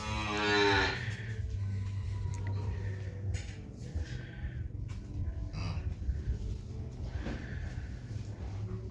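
Cows and calves in a Wisconsin barn in winter give a loud close moo, then lower bovine calls and snorts follow against steady barn hum.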